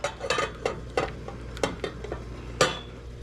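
A spoon stirs melting chocolate in a metal pot, with light clinks and scrapes against the pot in an irregular rhythm, close and fairly quiet.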